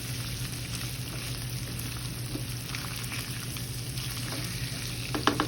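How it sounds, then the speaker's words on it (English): Meat sizzling in a hot pan on a home stove, a steady dense crackle and hiss with faint scraping as it is stirred, close and continuous with no talking. "I'm going to stir my meat around again."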